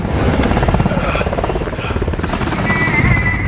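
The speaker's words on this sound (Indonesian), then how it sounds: "helikopter penyelamat pun datang untuk menjemput Kolonel Mason dan tim yang tersisa termasuk Jack" A rescue helicopter arriving in a military action film, its rotor chop pulsing steadily and loudly throughout with a dense engine roar and a whining tone in the later part.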